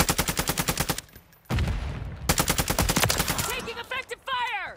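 Rapid bursts of automatic gunfire in a video game firefight, loud and close, with rhythmic strings of shots broken by short pauses and a brief whooshing gap, plus a few sharp higher electronic tones near the end.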